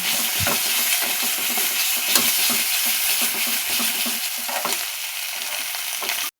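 Onions frying and being stirred in a pan for a koi fish curry, with a steady close sizzle and occasional sharp clinks of a spatula against the pan, no talking.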